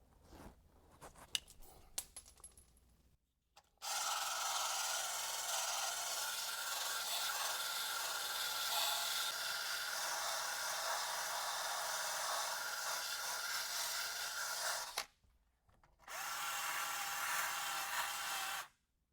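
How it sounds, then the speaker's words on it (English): A Duragold bristle brush on a power tool grinds rust and paint off a Toyota 4Runner, a loud continuous abrasive whir lasting about eleven seconds, then a short pause and another burst, after some light clicks and handling. "I like using these bristle brushes from Duragold to get rust off"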